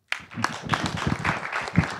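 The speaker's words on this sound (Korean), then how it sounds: "큰 박수 부탁드립니다" Applause from a forum audience greeting a speaker at a drought policy panel, a brief burst of scattered clapping that starts abruptly and carries on steadily for about two seconds.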